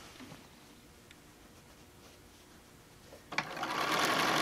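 A sewing machine top stitching a tote bag runs quietly at first, then its steady whirring hum swells louder and faster near the end.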